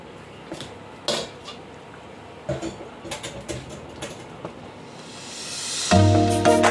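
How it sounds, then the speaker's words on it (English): Okra going into a pot of cooking rice and peas with coconut milk: scattered metallic clinks and knocks of utensil and pot over a steady simmering hiss, then a louder bump and a tonal sound at the end. "we're gonna add some okra inside the pot"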